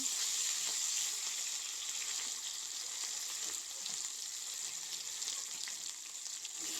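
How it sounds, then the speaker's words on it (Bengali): Steady, quiet sizzling of rice frying in a pan, with soft scraping from stirring, no voices. "ভালোভাবে নেড়ে নেব, কিছুটা টাইম ভাজা ভাজা করে নেব"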